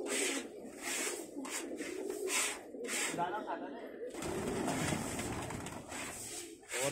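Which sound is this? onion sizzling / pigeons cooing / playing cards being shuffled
pigeons cooing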